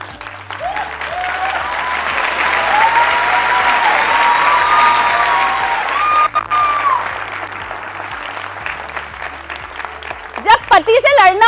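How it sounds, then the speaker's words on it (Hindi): A seminar audience bursts into loud, sustained applause, the dense clapping rolling on for several seconds, with a voice speaking over it before the clapping thins and breaks into scattered claps near the end. "हमारी ताली कैसे बज रही है?"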